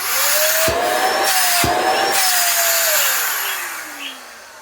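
A Beldray BEL0700NV2GRY150 corded stick vacuum motor runs at a steady, loud whine, close up, with its pitch rising slightly and then sliding down as it winds off near the end. Two brief knocks sound partway through.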